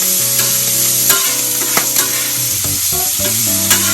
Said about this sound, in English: that's the time to get your shrimp and turn them